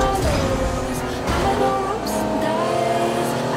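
A boosting, rocket-style car in the video game Fortnite drives with a continuous loud engine drone and shifting whine, with no speech over it.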